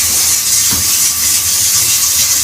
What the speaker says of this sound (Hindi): रोस्ट को स्टीम होने के लिए रखा हुआ है